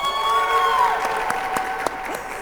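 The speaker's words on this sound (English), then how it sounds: "a very loud cheer from the choir" A large choir's loud cheer and applause echoes through the vast stone interior of Westminster Abbey at a faith community awards event, with a sustained tone and scattered sharp claps.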